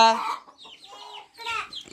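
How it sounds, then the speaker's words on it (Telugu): Chickens cluck in short, close bursts with brief pauses between, a few soft clucking calls with no talking. "మా ఇంట్లో కోళ్ళు అయితే ఇంట్లో తిరుగుతాయి ఉంటాయి"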